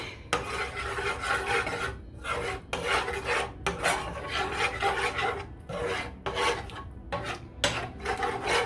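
Spoon scrapes and rubs rhythmically against a bowl while stirring ingredients into a beer basting sauce for boar ribs, steady close-up strokes repeating for several seconds with no talking.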